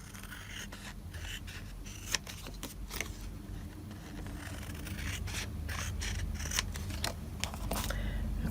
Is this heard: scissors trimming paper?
yes